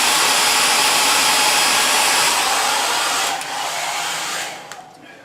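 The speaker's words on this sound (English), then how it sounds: "I believe you can just heat it up with the hair dryer" Hair dryer blowing hot air to heat the edges of carbon wrap on electric unicycle pedals, a loud steady whoosh that fades and drops lower near the end.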